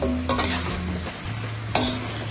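Butter chicken sauce stirred in a pan, a spoon scraping through it in two distinct strokes over a soft steady sizzle, close and fairly quiet with no talk.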